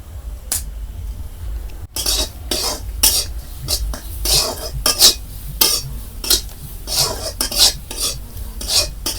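Chana dal lentils for a dal puri filling frying in a pan with homemade garam masala and a little sugar, stirred with a utensil: loud, close scraping and clinking strokes in an irregular rhythm over a soft sizzle, without speech.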